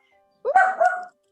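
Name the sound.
little puppies barking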